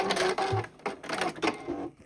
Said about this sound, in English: I'll stitch along and then I'll just come right past where I stopped last time and do a back stitch.